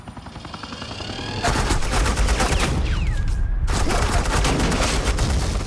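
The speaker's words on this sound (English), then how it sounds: "This is Agent Quinn, suppressing fire." Sustained suppressing gunfire in the Batman The Enemy Within video game, a loud continuous fusillade of rapid automatic shots that swells after a quieter opening and runs without a break, with no talk.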